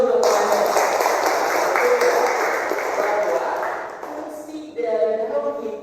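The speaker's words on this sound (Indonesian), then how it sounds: "Tepuk tangan dulu untuk penanya." An audience in a teaching session applauds a person who asked a question, with a dense burst of clapping that fades after a few seconds and then picks up briefly again.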